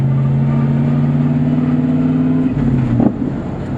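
A truck engine drones in low gear with a loud, steady tonal hum that shifts in pitch partway through as it revs, close and continuous over road rumble.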